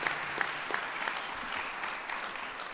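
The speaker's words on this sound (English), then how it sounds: "let's give a round of applause for the brothers and sisters in this room tonight" Steady audience applause at an apprenticeship graduation ceremony, dense clapping from a room of people, continuous and moderately distant with no talking over it.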